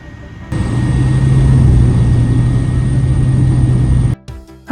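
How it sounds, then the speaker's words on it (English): A light propeller airplane taxis at St. Louis before takeoff. Its engine drones loud and steady from inside the cabin, with a strong low hum that cuts off abruptly near the end, followed by a few uneven clunks. "After a short taxi there, we were lifting off for the hour-long flight down to Jonesboro, Arkansas"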